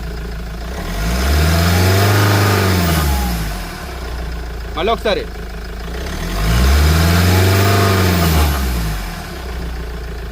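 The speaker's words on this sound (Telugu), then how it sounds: "ఇంజిన్ సౌండ్ అయితే బాగుంది" A 2014 Mahindra XUV500 W8 engine revs up twice, each rise and fall of the rpm sweeping smoothly over several seconds under a steady idle, with a brief spoken remark between the two revs.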